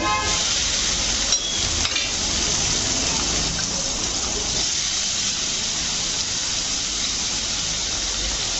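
Sliced onions sizzle loudly in a hot pan for a Tamil fish curry and fry meal, a dense continuous hiss with a few stirring scrapes early on.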